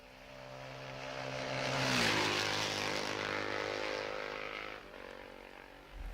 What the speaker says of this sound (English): I actually hate the sound of motorcycles.